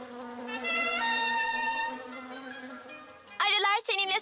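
Cartoon bees buzz in a steady, tonal hum that swells and holds for a few seconds and is fairly loud, followed by a brief burst of voices or other sounds at the end.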